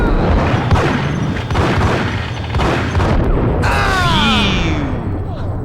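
Gunfire in the video game Max Payne: booming shots burst out loud and close amid game sounds, with rising whistling tones near the end.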